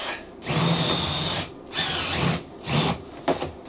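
A power drill bores a bigger hole through metal for a van camera mount, whirring in three close bursts with brief pauses between, then a short rattle at the end.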